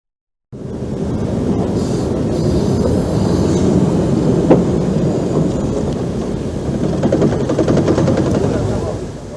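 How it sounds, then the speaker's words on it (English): A replica of Stephenson's Rocket steam locomotive running on the Great Central Railway at Rothley, a steady loud rumble with rhythmic chuffing that builds slightly toward the end, close and continuous. "A replica of the locomotive is seen here at Rothley on the Great Central Railway in 1991"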